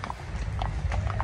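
Horse hooves clip-clop at a steady walking rhythm during a horse ride in Baguio, each clop distinct and fairly close over a rumbling background.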